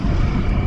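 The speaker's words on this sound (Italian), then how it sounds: "Il casco smorza anche abbastanza bene il rumore del motore" Motorcycle engine heard from inside a Nolan N60-6 Sport helmet, a steady muffled low drone with wind rush, continuous and fairly loud with no speech.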